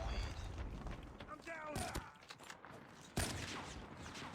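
The Locus sniper rifle in a video game fires two sharp, loud cracks a little over a second apart, with rumbling game ambience and a brief voice in between.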